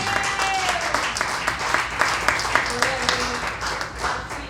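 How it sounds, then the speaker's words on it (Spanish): A church congregation gives loud, sustained applause after a sermon by a preacher, with crisp clapping throughout and faint voices and a brief tonal sound mixed in. "Denle un fuerte aplauso"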